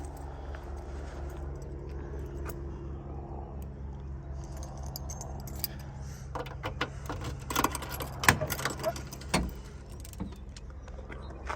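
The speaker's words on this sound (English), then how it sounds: "Pop the trunk." Trunk lid of a Raven Black 1968 Shelby GT500KR unlatching and swinging open, a burst of close mechanical clunks and rattles over a quiet background hum.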